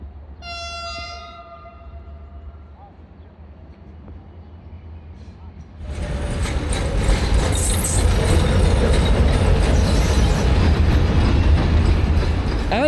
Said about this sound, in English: And just like that, that's our night train arrived.